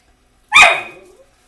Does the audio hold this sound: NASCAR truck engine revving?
no